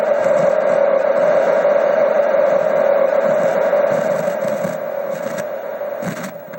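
Atari Football arcade machine background noise, a steady hum with a hissing, static-like wash and faint scratching crackles, continuous and fairly loud, fading slightly near the end.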